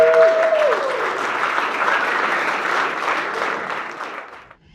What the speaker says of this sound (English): Y'all give yourself a round of applause for this show.